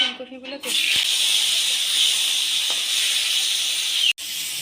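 Cauliflower florets frying in hot oil in a home kitchen give a steady, loud hiss of sizzling that runs almost unbroken, with a brief soft clatter near the start and a short break near the end.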